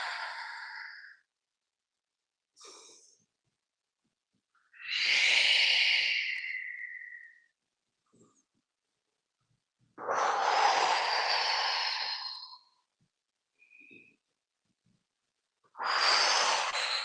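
Slow, deliberate breathing during a qigong class, timed to movement of the hands and arms. Soft, close inhales and exhales come in separate breaths with quiet pauses between them, and no one talks.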